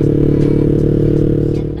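A Yamaha MX King 200cc motorcycle fitted with a Pekajaman exhaust idles close by, giving a deep, steady, throbbing burble that eases off slightly at the end.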